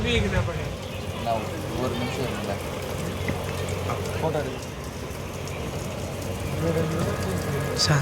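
Rain falls during a journey on the Westcoast Superfast Express train near Erode, a constant hiss of rain mixed with rolling train noise, while people talk throughout.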